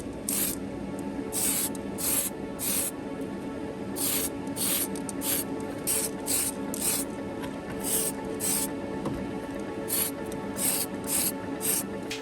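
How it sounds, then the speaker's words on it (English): Tamiya aerosol flat coat matte varnish sprays onto miniatures in many short, rhythmic hissing bursts, close and steady, with a low constant hum underneath. "now to apply some matte varnish to seal all that work in, and I'm using Tamiya's aerosol flat coat"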